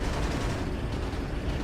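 Gunfire in the video game Uncharted 3: a dense, continuous rumble of shots and blasts filling the whole stretch at steady loudness, with no voices over it.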